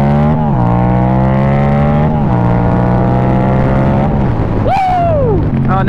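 A Yamaha FZ-07 motorcycle engine pulls loudly while riding, revving up in repeated rising sweeps with gear changes, close and sustained, ending with a sharp pitch dip as the revs drop.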